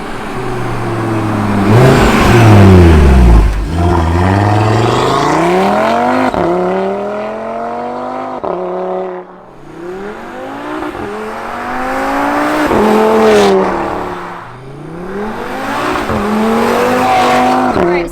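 A 2021 Audi TT RS fitted with a downpipe and midpipes accelerating hard, heard from inside: loud rising engine pulls through several gear changes, each climb cut by a brief dip before revving up again.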